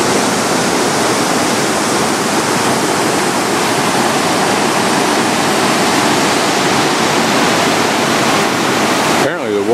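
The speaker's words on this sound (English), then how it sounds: "Living up in those homes to this wonderful sound of water." Pailón del Diablo waterfall near Baños, Ecuador, a loud, unbroken roar of crashing water that holds steady throughout.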